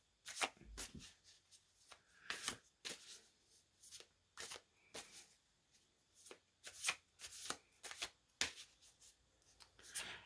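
Tarot cards being shuffled and drawn during a card reading, a run of crisp riffling and flicking bursts in irregular clusters, close and fairly quiet, with no talking over them.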